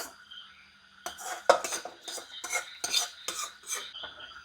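A spoon scraping and clinking against a pot while stirring a broken wheat payasam mixture, a series of uneven metallic strokes and knocks, close and fairly quiet.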